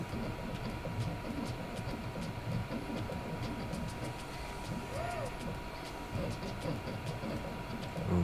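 An EasyThreed K9 mini, a cheap 3D printer, runs a print job with a steady mechanical hum and faint whirring stepper-motor tones. The noise is moderate and continuous, with no talking over it.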